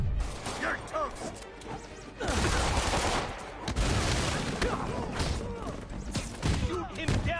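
Gunfire and impacts in the Spider-Man PS4 video game, chaotic bursts of shots mixed with crashes and mechanical clatter, loud and dense throughout, with shouting voices layered over the action.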